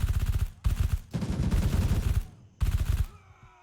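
Gunfire in the video game Gray Zone Warfare: several rapid automatic bursts, loud and close, separated by brief pauses, with the longest burst in the middle.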